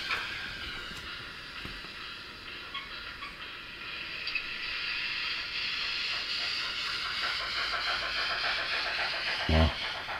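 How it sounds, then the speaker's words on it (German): A Gützold class 65 steam locomotive in TT scale runs in reverse, its sound module giving a soft, steady hissing chuff with a faint rhythmic pulse and one brief louder burst near the end, quiet and close. "Und jetzt fahren wir mal mit der Lokfahrt-Taste wieder zurück."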